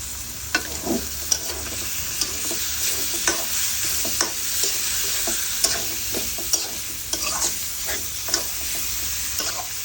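Country chicken curry fries in a pan under a steady hiss of sizzling oil, while a spatula clicks and scrapes against the metal at an irregular rhythm throughout.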